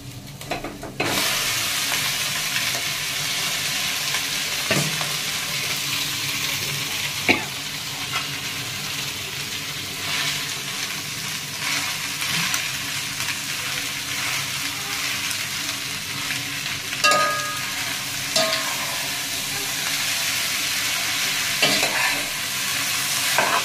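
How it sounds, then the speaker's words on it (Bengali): Noodles with winter vegetables stir-fry in a pan, giving a continuous close sizzle. Scrapes and clanks of stirring break in now and then. "প্রচণ্ড ভাত উঠছে, তো এখন নুডলসটা দিয়ে দেবো।"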